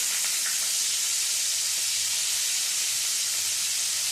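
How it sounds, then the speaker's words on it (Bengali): Bitter gourd pieces frying in hot mustard oil with salt, a steady broad sizzling hiss held at an even level throughout, close and continuous with no talk. "আগে উচ্ছেটা ভেজে নেবো"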